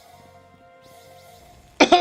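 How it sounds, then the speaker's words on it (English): One short, sharp cough brought on by hiccups breaks a near-silent room with a faint steady hum, coming close and loud at the very end. "I'm having a weird case of hiccups right now, and it's annoying."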